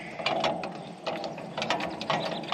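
Ratchet crank being cranked down on a John Deere 5115R tractor, a series of close, crisp clicking ratchet strokes in quick bursts, alone without talk.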